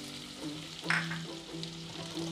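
Onion tipped into hot oil already holding fried red chilies, a steady close sizzle with a brief louder burst as it goes in, then quiet stirring scrapes, no talking.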